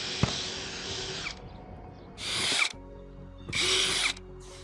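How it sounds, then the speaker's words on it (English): A power drill bores through two wooden boards clamped together, marking insertion spots for bulbs in a snowflake design; a long close whining burst is followed by two shorter high-pitched drilling runs with quiet pauses between them. "I clamped both boards together with the board with the snowflake design on top and drill out the pre-marked insertion spot for the bulbs."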